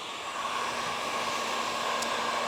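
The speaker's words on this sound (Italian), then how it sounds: "passando il phon continuate a bloccare" A hair dryer runs with a steady, even whoosh and hum, close and uninterrupted, drying sponged paint on an old wooden cabinet being restyled with a rust effect.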